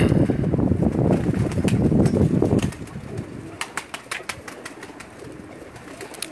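Teddy pigeons coo in a dense, close chorus that drops away after a few seconds, leaving scattered light taps and faint background noise.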